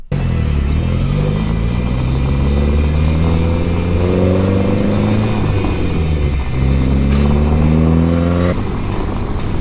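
A Datsun 510 with a new short shifter accelerates onto a freeway, the engine droning loudly and climbing through the gears, pitch rising steadily, dipping at a shift near the six-second mark, then rising again.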